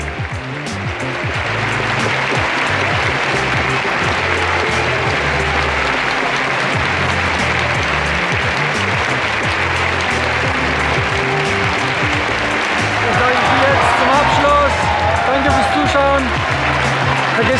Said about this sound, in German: So, für wen ist dieser Applaus? Dieser warme Applaus?